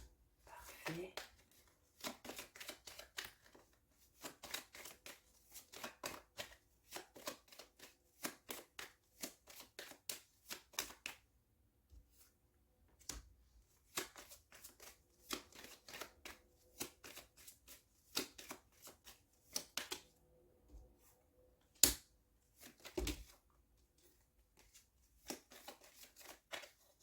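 Tarot cards being shuffled by hand, a quiet close series of soft riffling and slapping bursts in irregular rhythm with short pauses between them.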